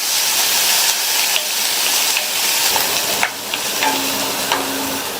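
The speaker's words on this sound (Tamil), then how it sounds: "இதை லைட்டா ஒரு 1/2 நிமிஷத்துக்கு வதக்கி விட்டா போதும்." Chopped onion sautéing in a pan for a dosa dish, a loud continuous sizzle and hiss with occasional stirring scrapes, close and alone without talk.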